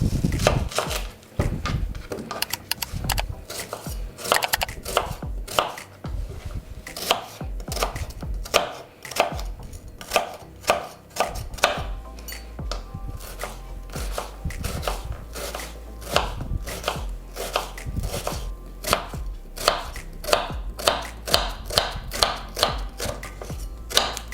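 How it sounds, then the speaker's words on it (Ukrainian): Rapid, steady knife chopping of an onion on a board, sharp close thwacks repeating in quick rhythm with no talking. "Для начала наріжемо цибульку."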